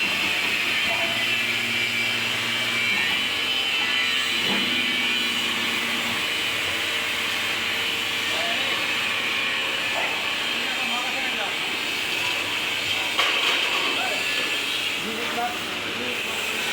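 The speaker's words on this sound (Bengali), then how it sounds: "এখানে প্লেট তৈরি হচ্ছে" Steel plate making machine running in a workshop, a continuous loud hissing, rumbling drone with steady mechanical hum, while someone talks over it.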